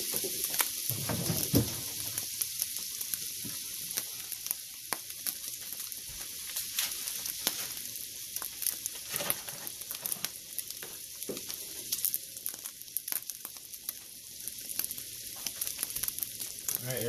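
Butter and flour roux for sausage gravy sizzles steadily in a pan, a close, continuous crackling hiss with scattered pops and occasional scraping of a utensil, no voices.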